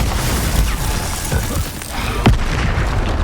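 Glacius freezing spell cast during combat in the video game Hogwarts Legacy, a few sharp bursts and impacts over a busy, loud bed of battle effects, with one strong crack near the end.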